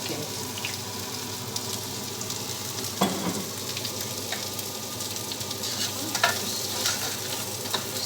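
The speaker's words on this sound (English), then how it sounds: "I'm just going to put a little bit more, probably another tablespoon of oil, just to get the mushrooms cooking." Mushrooms fry in oil and butter in a pan, a continuous close sizzle and crackle with a few sharper scraping stirs, no voices over it.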